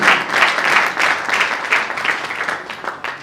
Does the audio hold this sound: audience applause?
yes